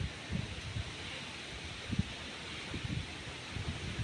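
Strong wind gusting through foliage in Bohol, Philippines, leaves rustling in soft bursts over a steady breezy hiss, close by with no talking.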